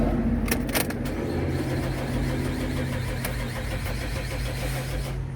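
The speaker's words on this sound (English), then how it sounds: "start up the car with the brake cap back on" A 2007–2016 Buick Enclave cranks and starts after a brake job, a few sharp clicks and cranking bursts settling into a steady, low engine idle heard close by.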